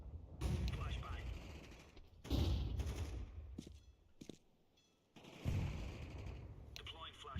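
A flashbang grenade goes off in a tactical shooter game, giving several loud bursts with a ringing hiss and sharp crackle between stretches of near silence.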